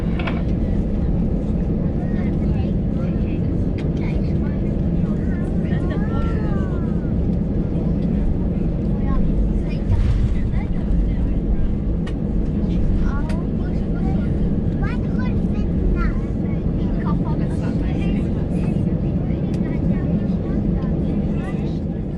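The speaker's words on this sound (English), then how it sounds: "as we pull into the gate here at London Luton Airport" An EasyJet airliner taxis into the gate at London Luton Airport after a flight from Zurich, heard from inside the cabin as a steady engine and cabin drone with faint background chatter.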